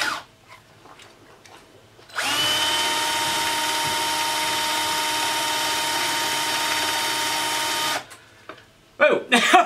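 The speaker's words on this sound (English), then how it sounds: "I just happen to be using a drill as a prime mover." An electric drill driving a motor generator whirs at a steady high pitch for several seconds, starting and stopping abruptly, with faint handling noises before and after.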